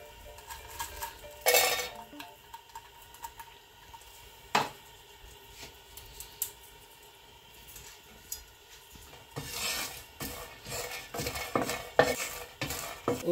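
Dry whole spices — peppercorns, panch phoron, mustard seeds, dried chillies and bay leaves — toasted in a dry pan for a sour-sweet-spicy jujube pickle, giving scattered scraping and clinking stirs with sharp bursts of rattling, busier toward the end.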